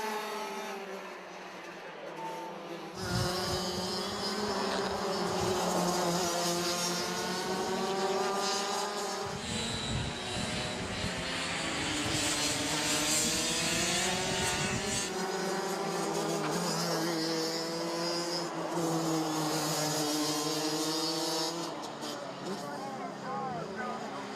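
Rotax Max racing karts at the Rotax Max Challenge Asia Trophy pass by in a pack, their buzzing engines rising and falling in pitch for several seconds, with a commentator talking over them.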